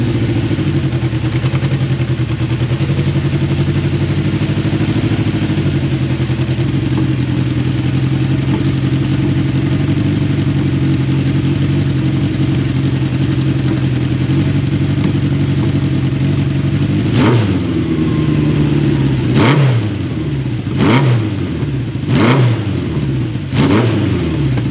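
A restored Honda CB750 motorcycle engine idles with a steady, even rumble, then the throttle is blipped several times near the end in sharp revving bursts.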